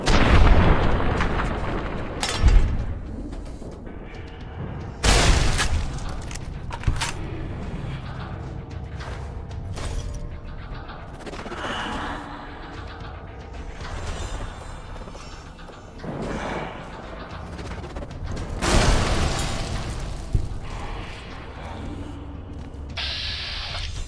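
Thrown explosives going off in Fallout New Vegas Dead Money, several loud booms and blasts at irregular intervals over a busy rumbling game background, with a voice talking in places.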